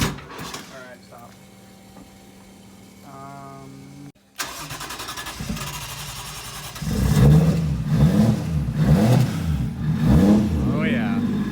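A Toyota 1JZ VVTi engine turns over after a pause, fires and catches, then revs up and down in several rough bursts close by, with voices talking over the earlier part.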